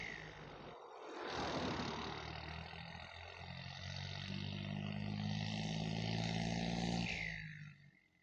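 A John Deere 5050D tractor's diesel engine roars loudly and steadily up close, with a low rumbling drone that swells and holds before cutting off abruptly near the end.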